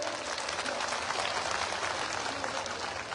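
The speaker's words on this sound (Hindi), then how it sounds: "सभी जोरदार ताली द्वारा आदरणीय वसुंधरा जी का स्वागत करें।" Crowd clapping to welcome a former chief minister at a BJP election rally in Rajasthan, a continuous wash of applause held at an even level throughout with no break.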